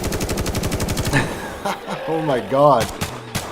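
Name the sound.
AK rifle gunfire in the video game The Day Before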